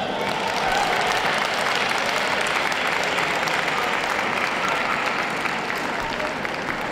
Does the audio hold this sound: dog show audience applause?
yes